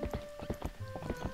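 Hooves of Epona, Link's horse in the video game The Legend of Zelda: Twilight Princess, clip-clop at a steady walking pace through a town, with close, evenly spaced thuds.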